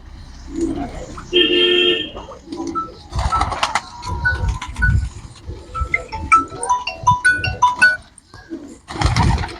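Flying pigeons at a market in Punjab give soft, low cooing calls mixed with other bird and animal sounds, close by and intermittent, with people's voices in the background.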